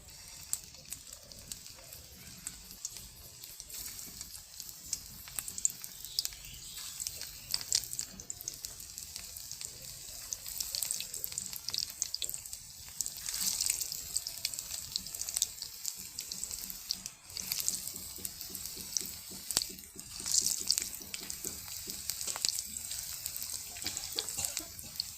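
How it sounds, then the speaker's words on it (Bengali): Egg pakora batter frying in hot oil, a steady hissing sizzle that keeps up throughout with small crackles and bubbling pops, fairly close and without speech. "তো এটাকে এখন ভালো করে তেল দিয়ে ভেজে নিব।"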